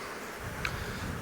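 Honeybees buzz around hive boxes being combined outdoors, a faint, steady insect drone under low wind rumble.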